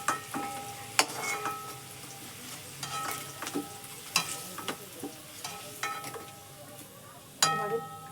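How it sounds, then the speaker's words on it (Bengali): Potatoes fry in oil with salt and turmeric, a soft steady sizzle broken by repeated clinks and scrapes of stirring against the pan, fairly quiet and close. "আলুটা লাল লাল করে ভেজে নেব নুন হলুদ দিয়ে।"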